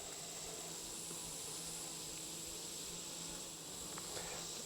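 Honey bees from a queenless hive buzzing as a dense, steady drone that continues unbroken and fairly close for the whole stretch, with no voices.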